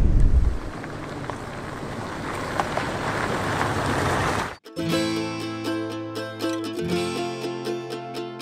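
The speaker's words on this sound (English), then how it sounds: "A lot of wind right here, and this is a very curvy road." Strong wind roars over the microphone while driving a very curvy mountain road near Laguna Parón in Peru, steady and loud for about four seconds before cutting away to a different, tonal scene.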